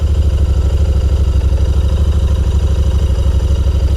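A Royal Enfield 650 cafe racer motorcycle engine idles just after starting, a loud, close, steady rapid thumping pulse with an even rhythm throughout.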